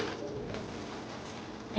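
A fancy pigeon breed kept in Karachi coos softly, a low murmuring warble under steady background noise throughout a short moment, with no talk.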